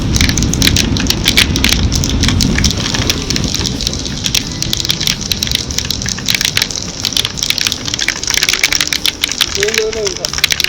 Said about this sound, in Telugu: వర్షం ఇంకా తప్పదు.